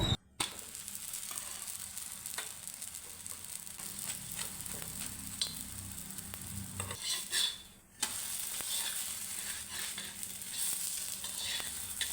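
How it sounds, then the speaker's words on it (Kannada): Aloo paratha fries in oil on a pan, giving a steady close sizzle with a few soft scraping touches and a short pause near the end before the hiss resumes. "ಎಣ್ಣೆ ಹಾಕ್ಕೊಂಡು ಬೇಯಿಸ್ಕೊಳ್ತಾ ಇದ್ದೀನಿ"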